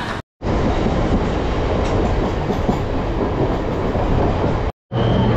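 Loud, continuous rumble of a train rolling by close at hand, steady roar with faint rhythmic rattling, cut off briefly at start and end.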